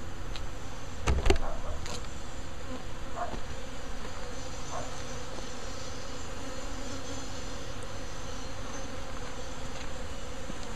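A steady, dense buzz of many honeybees swarming spilled syrup feed, close and continuous, with a brief thump near the start and no voices.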